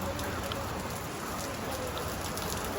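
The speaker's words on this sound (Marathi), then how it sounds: "इथे पाऊस आहे," Rain falls steadily in the mountains between Srinagar and Dras, a close, even hiss of drops hitting surfaces that stays constant throughout, with no talk over it.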